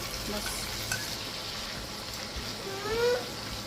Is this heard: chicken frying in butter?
yes